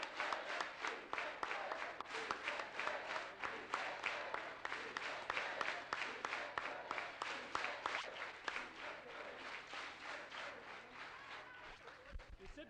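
An audience at a 1973 Cesar Chavez rally in Chicago claps in steady, rhythmic unison, a long run of evenly spaced hand claps heard from a distance.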